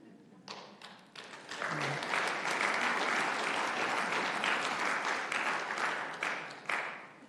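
Audience applause at a 2025 State of the City Address, a dense sustained burst of clapping that rises quickly and holds strongly for several seconds before tapering.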